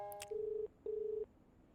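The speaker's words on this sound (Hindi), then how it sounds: "किसी का फोन आ रहा है।" A mobile phone rings with an incoming call: two sustained, steady electronic beeps with a short gap between them, clear and fairly close, with no voices.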